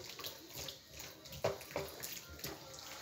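Kilishi, a dried spiced meat, being washed in hot water, with soft splashing and sloshing water sounds near and quiet, a couple of brief louder splashes midway.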